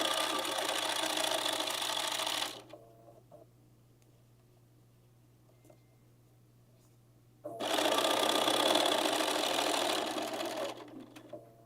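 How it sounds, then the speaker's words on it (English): Sewing machine stitching a basic seam, running loud and steady in two bursts of a few seconds each with a quiet pause between, close by under a faint low hum. "So we stitched our first line here on the edge at 1/8 of an inch, and then we stitch a 1/4 inch away."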